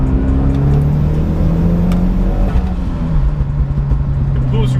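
A Mitsubishi Evo turbo car accelerates hard at full throttle from about 3,500 RPM, its engine tone climbing in a loud, close, steady pull from inside the cabin.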